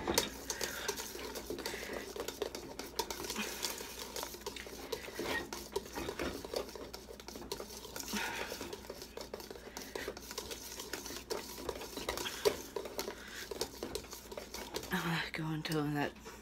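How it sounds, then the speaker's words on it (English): Whisk stirring a thickening custard mixture in a pot over low heat for a Boston cream pie, with steady close scraping and tapping against the pan while a person talks over it. "turn the heat back down to low. And whisk for one more minute."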